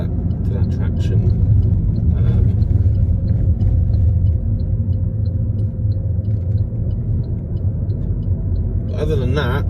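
A 2012 Alfa Romeo Giulietta being driven, heard from inside as a steady low engine and road rumble that continues throughout, with a brief brighter burst near the end.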